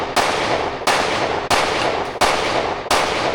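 Five loud, close pistol shots from a Glock 43X at a shooting range, fired at a steady, unhurried pace with each crack followed by a short echoing tail.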